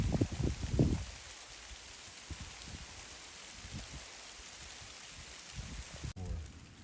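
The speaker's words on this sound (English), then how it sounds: "the rain is really coming down" Heavy rain pouring down outdoors while sheltering under a rock ledge on a Utah hiking trail, a dense steady hiss with a few louder thumps and rustles at the start.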